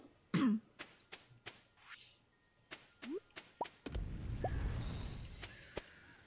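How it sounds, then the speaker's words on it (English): Several short, sharp coughs and throat-clearing bursts from a person with a cough, spaced irregularly, followed by a stretch of low rumbling background noise with a few more brief coughs. "Darn this darn cough."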